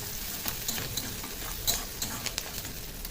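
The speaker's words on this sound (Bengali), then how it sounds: "তেলটা গরম হয়ে গেছে, দিয়ে দেবো গোটা জিরে, দিয়ে দেবো কুচিয়ে রাখা পেঁয়াজ। পেঁয়াজটাকে একটু নরম করে ভেজে নেব।" Chopped onions and whole cumin seeds frying in hot oil for chana masala, a steady crackling sizzle with a few sharper pops and spatters, close and alone without any voices.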